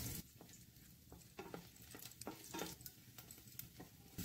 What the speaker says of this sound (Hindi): मैंने जो यह काजू, बादाम और नारियल को काट कर रखे हुए हैं उसे मैं इसमें ऐड कर दूंगी और इसे हल्का सा बस लगभग 1 मिनट के लिए भून लेंगे